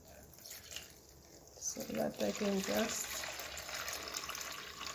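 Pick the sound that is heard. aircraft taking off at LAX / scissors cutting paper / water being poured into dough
water being poured into dough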